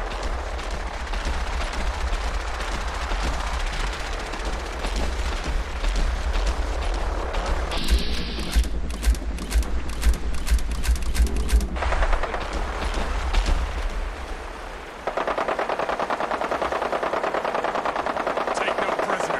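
Rapid automatic gunfire rattles in long bursts from the video game Fallout 4, with single shots and mechanical clatter between volleys and a steady low rumble underneath, while a voice talks over it.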